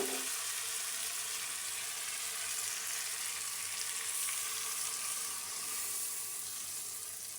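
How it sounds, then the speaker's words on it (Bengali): Milk poured into a pan of spiced mixture that is already frying, giving a steady, close hiss and sizzle with faint watery bubbling throughout and no talking. "তো আমি এখানে দুধটা দিয়ে দিচ্ছি।"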